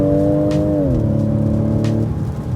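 Ford Edge ST with a 2.7 EcoBoost engine running on LPG, revving in a smooth sustained tone that dips slightly in pitch then holds steady before easing off, close and clear with no talking.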